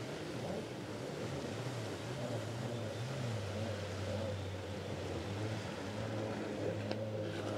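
Continuous distant drone of racing powerboat engines during a race, with a steady low hum and faint wind or water noise, no speech.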